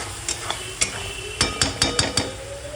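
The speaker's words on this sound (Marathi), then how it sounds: "मसाले पूर्ण व्यवस्थित परतून तेल आपलं बघा कसं तेल आलंय" Spice masala for masala bhindi sautéing in oil until the oil separates, heard as a soft, steady sizzle punctuated by a handful of sharp spatula taps and scrapes against the pan.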